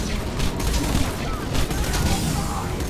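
Rapid gunfire rattles in Borderlands 2 co-op combat, a dense stream of overlapping shots and booms that keeps going for several seconds, with players' voices faintly mixed in.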